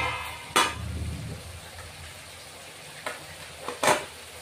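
Water goes into a pan of frying mustard fish curry, setting off a crackling sizzle with a few sharp bursts at the start and later on, close by and fairly steady.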